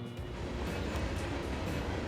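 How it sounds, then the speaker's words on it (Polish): A train in the game Transport Fever 2 rolls along with a steady, faint rumble and soft rhythmic clatter, continuous throughout with no other sounds. "Ten pociąg jedzie, jak gdyby nigdy nic."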